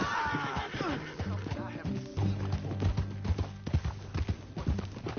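Horse hooves clip-clop in the Red Dead video game, a brisk irregular clatter of hoofbeats with a short whinny near the start, set under game music and ambience.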